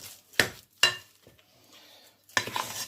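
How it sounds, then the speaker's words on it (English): Egg is stirred into shami kebab mixture in a bowl, heard as a few sharp, close clinks and wet scrapes separated by quiet gaps. "Just generally, just mix the egg in"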